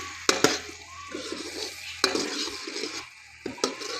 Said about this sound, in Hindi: अदरक लहसुन के कटे हुए को थोड़ी देर के लिए भून लेंगे ताकि इसका फ्लेवर भी मसाले में